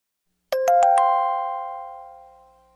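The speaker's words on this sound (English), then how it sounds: "Sound of a bell." A bell knell: four quick struck tones in succession, then a long, clear ringing decay that fades slowly with nothing else around it.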